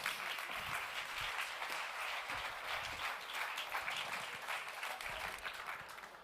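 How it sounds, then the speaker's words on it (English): A large audience gives steady, lively applause for a conference panel, a dense continuous crackle of clapping heard from some distance, fairly soft and even throughout, with no one talking over it. "a big applause for the panel and Peter de Keyser"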